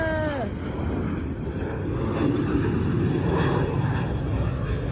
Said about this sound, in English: That's a 737. That is definitely a 737. I heard it right there.